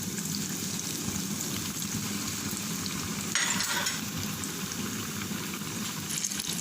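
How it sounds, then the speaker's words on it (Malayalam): Beef meat rolls fry in hot oil, giving a loud, continuous sizzle and crackle throughout, with a brief surge of bubbling midway and no talking. "ഈ റോൾ ഫ്രൈ ചെയ്തെടുക്കാൻ വേണ്ടി ഞാൻ എൻ്റെ എണ്ണ ഇത് നല്ലതുപോലെ ചൂടായിട്ടുണ്ട്. അതിലേക്ക് നമുക്കിത് ഓരോന്നായി ഇട്ട് കൊടുക്കാം"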